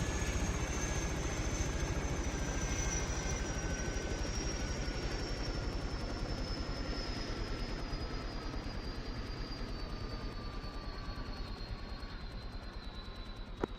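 A helicopter in the Arma 3 video game drones steadily and close throughout, a dense, even rotor-and-engine roar with a faint whine sliding slowly downward.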